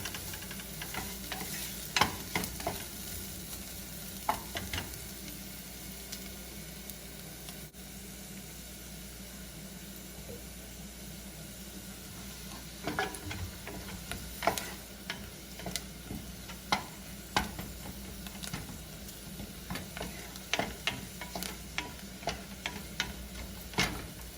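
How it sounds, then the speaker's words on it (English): Garlic frying in a pan for East African fried rice, a soft steady sizzle broken by clusters of scraping stir strokes, faint and close, with no talking. "right after I'll add the garlic, and of course give it a good stir as well"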